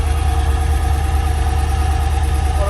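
A car engine idles steadily at around 1050 RPM after a fuel pump relay repair, giving a continuous close, low rumble with a faint vibrating hum and no talk.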